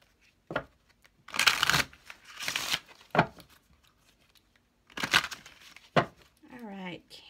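Tarot cards shuffled in several bursts of crisp riffling and slapping, with a short card snap between, close by and moderately loud; a brief voice comes in at the end.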